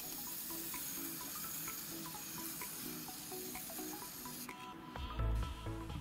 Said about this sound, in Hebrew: גם הוספתי קצף גילוח.